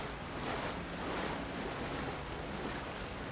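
A waterfall in the fantasy game Avowed roars as a continuous, loud, even rush of falling water, steady for a few seconds with no voices.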